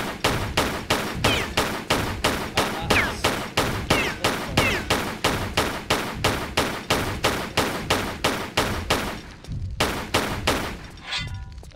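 Sustained rapid gunfire from a gun in the video game Tomb Raider 3, loud and steady bursts repeating for most of the clip, then briefly pausing before a few more shots.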